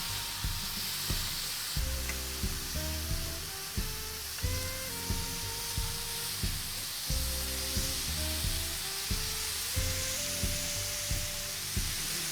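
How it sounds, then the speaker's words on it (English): Paneer cubes grill in a hot pan with a continuous bright sizzle, heard alongside steady tonal background music throughout. "Once it grills on one side, gently flip it on the other side as well."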